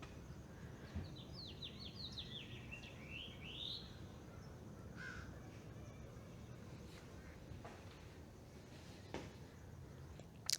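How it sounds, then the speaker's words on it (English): Bird chirps and whistled calls carry from a backyard, mostly in the first few seconds, with a few brief faint notes later over a steady outdoor hiss and low rumble. "I don't know if you can hear, but from the backyard, there's just like birds."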